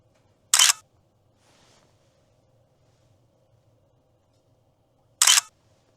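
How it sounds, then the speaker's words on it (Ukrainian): Two sharp camera shutter clicks, about five seconds apart, near and loud against a quiet background, as a photo is taken at a DHL Packstation parcel locker. "Зроблю ще фото."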